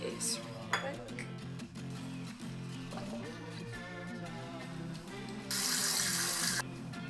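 Water runs from a bathroom sink tap while a face is washed, a steady splashing stream broken by small clinks of bottles and dishes, with a louder gush of flow near the end.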